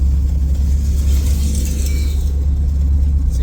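A Cuda car engine held at high revs, around 5,000 RPM, gives a loud, steady, throbbing drone with a strong low growl that stays even throughout. No talk is heard over it.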